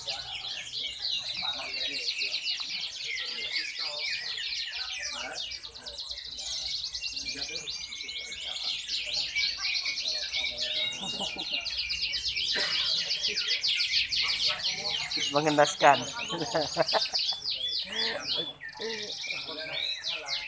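Canaries at a bird singing competition trill and warble continuously in rapid, bright phrases, heard near and fairly loud while someone talks over them.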